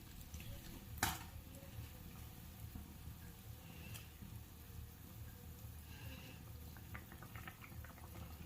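Fish pieces go into a simmering fish curry, a faint soft plop or splash near the start over quiet, continuous bubbling and light sizzling, with a few small clinks later and no talking.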